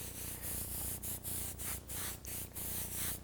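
An airbrush hisses steady paint spray in short pulses, breaking off briefly about every half second, close and fairly quiet, with no voices.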